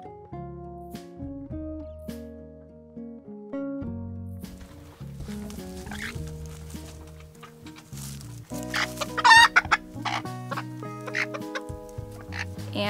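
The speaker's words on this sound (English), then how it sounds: "We have some chickens, they need water too." Backyard chickens clucking close by, a scattered series of short calls that grows busier and louder in the second half.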